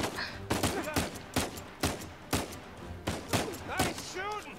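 Shooting in the video game Uncharted 4: A Thief's End, a steady run of loud, evenly spaced shots like a sustained firefight, with a brief voiced sound near the end.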